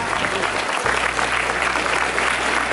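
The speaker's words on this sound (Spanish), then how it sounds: "Un aplauso para el equipo." An audience at a sports awards ceremony applauds a table tennis team with loud, continuous, dense clapping that fills the room and holds steady throughout.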